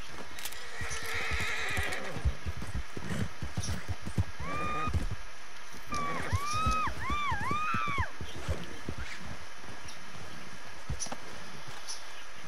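Horse neighs and whinnies with hoof clip-clops in the video game Red Dead Redemption 2, rising and falling whinny calls mid-clip over steady hoofbeats and outdoor ambience.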